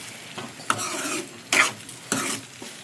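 A vegetable fry is stirred in a pan over a soft background sizzle, with three distinct scraping strokes of the spatula spaced about a second apart, close and clear with no voices.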